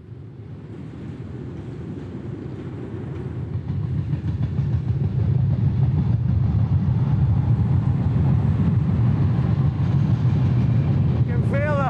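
A train rumbles steadily across a bridge, a deep continuous roar building over several seconds, with a faint rising whistle near the end.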